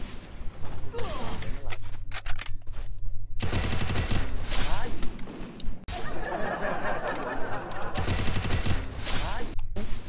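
Gunfire in the Free Fire mobile shooter, with repeated loud bursts of rapid automatic shots and single cracks across a busy game scene, and a voice talking over parts of it.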